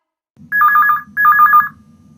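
A mobile phone rings loudly and close by in two distinct electronic ringing bursts separated by a brief gap, then fades into quiet.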